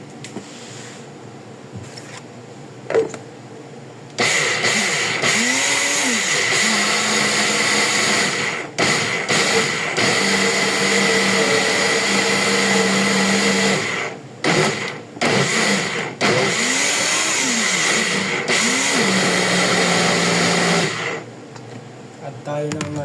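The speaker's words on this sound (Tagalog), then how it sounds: "I-blenderin na natin to." A kitchen blender whirs loudly and steadily as it purées baked eggplant and potato, running in long sustained bursts with brief pauses in between.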